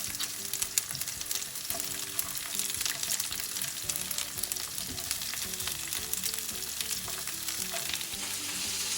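Onions and peppers frying in oil on high heat, a continuous close crackling sizzle with occasional stirring taps, no talking.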